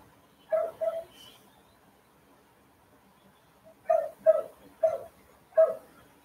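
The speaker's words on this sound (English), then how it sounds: "That's why the dogs are probably barking." Dogs bark in short bursts at night in the Philippines, a pair of yips followed by a pause and then four more spaced barks, moderately distant and clear against quiet surroundings.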